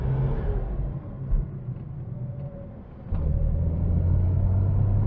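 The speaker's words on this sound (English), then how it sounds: "Let's just go around this roundabout and see how it feels." A 1976 Datsun 260Z 2+2 drives around a roundabout, heard from inside the car as a low engine rumble that deepens and grows louder partway through.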